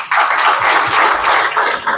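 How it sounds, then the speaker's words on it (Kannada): An audience at a Kannada film show applauds steadily, and the dense clapping swells and dips slightly over two seconds, loud and close with no talking. "ಬರಲಿ ಚಪ್ಪಾಳೆ."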